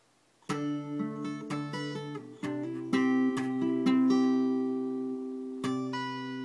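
A guitar plays a short riff from a song, plucked notes and chords with each attack ringing on, ending with a sustained chord and one final strum.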